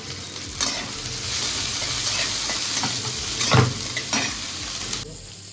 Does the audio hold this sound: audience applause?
no